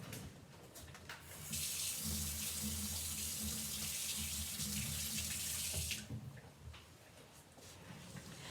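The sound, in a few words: water running while rinsing out a brush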